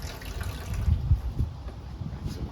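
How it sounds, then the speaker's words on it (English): Water boils in a pot while a meal is prepared, a low bubbling and churning rumble with faint gurgles that swell and settle close by. "So you see this water boiling here."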